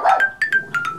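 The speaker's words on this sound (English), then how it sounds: "Hey, Siri, play puppy noises." Recorded puppy yips play from a phone's voice assistant: about six short, high-pitched barks in quick succession, close and clear.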